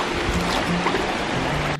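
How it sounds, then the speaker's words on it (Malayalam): Cold water from a lake flowing strongly into the sea at a beach near chalk cliffs, a close, continuous rushing and burbling with no speech. "നല്ല ഒഴുക്കുണ്ട് വെള്ളത്തിന്"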